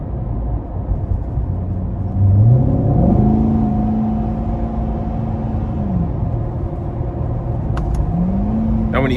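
A 2022 Chevrolet Corvette C8 Convertible 3LT Z51 accelerates from inside the cabin, engine rising in pitch through quick paddle-shifted gear changes, a steady close rumble with brief dips at each shift.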